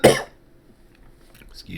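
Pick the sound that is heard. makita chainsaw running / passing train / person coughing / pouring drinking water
person coughing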